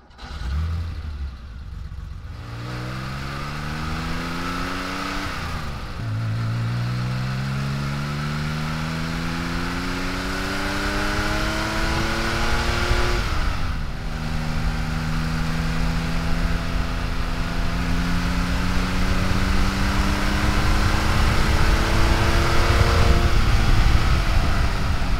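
Air-cooled Porsche 911 flat-six engine revving and pulling away, rising harmonic sweeps through several gear changes, loud and close with steady road and wind noise building.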